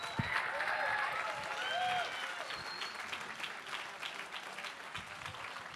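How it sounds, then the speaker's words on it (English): A room full of guests at the Photographic Center Northwest benefit gives a sustained round of applause, fairly distant and soft. A few whistles or cheers come through near the start before the clapping gradually thins. "Would you give all of the donating artists a huge, huge, huge round of applause?"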